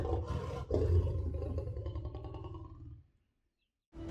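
A big lion, angry and defending its ground, lets out one sustained, deep, rumbling roar up close. It trails off into a brief silence, then another loud burst starts.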